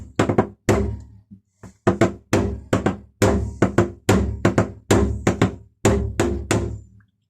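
A hammer knocks the drive shaft off a 1984–1996 Mercedes E-Class W124, making a steady series of close, solid metallic taps in quick pairs and groups with short pauses between, and no talk.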